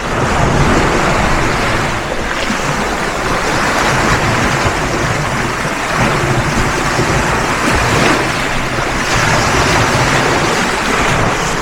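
Ocean waves break on a beach beside a sea wall, producing a loud, continuous wash of surf that swells and eases slightly in places, like a constant roar close by.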